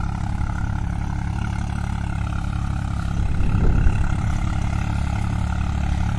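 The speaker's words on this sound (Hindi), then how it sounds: "मूंग की खड़ी खेती में तोई मार रहे हैं, मजबूरन तोई चलाना पड़ रहा है दोस्तों किसानों को" A tractor (Farmtrac 50 or Swaraj 735) pulling a tiller through a standing mung bean crop in a field gives a loud, steady engine drone, swelling briefly as it passes closer, with no voices.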